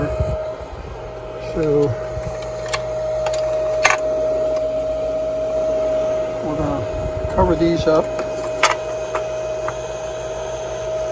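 The electric blower of an Emenee organ hums steadily with a faint tonal whine, while nearby handling knocks and clatters come and go and someone talks intermittently over it.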